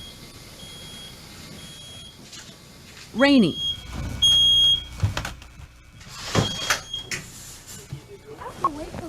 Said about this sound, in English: He awakens as soon as a new smoke detector in his room goes off and is at his window within seconds.